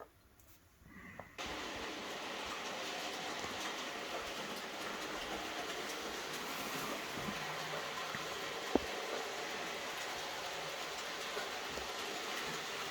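A Farish 8F N gauge model steam locomotive with added weight runs along track, giving a steady, continuous mechanical whirring rumble with faint clicking that holds constant for over ten seconds after starting, with one brief sharp click.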